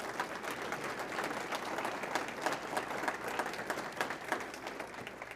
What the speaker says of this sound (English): how about a nice round of applause for them?